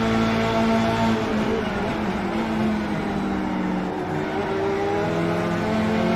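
An F3 race car in the iRacing game at Monza drones with a loud, steady engine whine that holds a near-constant pitch for about six seconds and drifts slightly as it goes by, with no talk over it.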